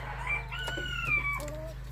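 A young rooster, under seven months old, of a colourful Birkivska-type chicken, gives a single short crow nearby, clear over a low steady background hum.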